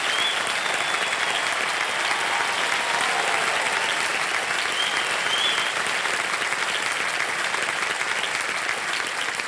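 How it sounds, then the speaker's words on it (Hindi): Sustained studio audience applause on the KBC Season 15 quiz show, a dense, even wash of clapping that stays loud throughout with no one talking over it. "उनके चैंपियन के रूप में बहुत ही उत्कृष्ट अभिनेता रणदीप हुडा जी की तालियों के साथ हम अभिनंदन करना चाहेंगे।"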